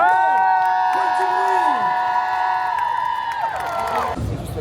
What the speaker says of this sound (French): J'aimerais qu'on fasse un maximum de bruit pour les participantes et les participants de cet événement de cosplay de Coupe de France